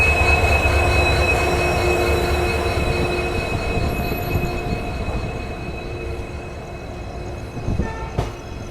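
The Tirupati Hubballi Express, hauled by a WDP4D diesel locomotive, rumbles past loud and close, its steady wheel roar slowly fading, with squealing tones and a sharp clank near the end.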